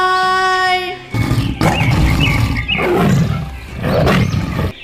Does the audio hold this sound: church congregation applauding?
no